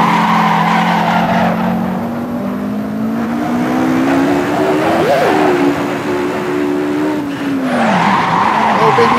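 A Vauxhall 220 turbo accelerates hard through its gears, its engine note climbing steadily with a sharp shift partway through and a tire squeal, loud and close, under the road roar.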